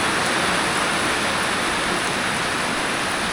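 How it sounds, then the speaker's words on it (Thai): Heavy, persistent rain in a remote rural village in Laos, heard as a dense, even, continuous hiss that fills the whole stretch at high level with no breaks and no voices. "แต่ว่าฝนยังบ่ทันได้หยุดเลยบ่มีท่าทีว่าจะหยุด"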